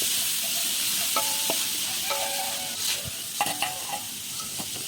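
Liver sautés in annatto oil with a constant bright sizzle, and a spatula scrapes and taps against the pan several times, loud and close, with no voices.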